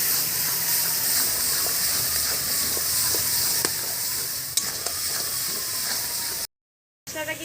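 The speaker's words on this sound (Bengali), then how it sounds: "পরিমাণ মতো হলুদ, লবণ, ভালো করে এবার কষে নেব।" Turmeric, salt and ground spice paste fry in hot oil in a pan, giving a steady, fairly loud sizzle and hiss with a few faint clinks, then a short gap of silence near the end.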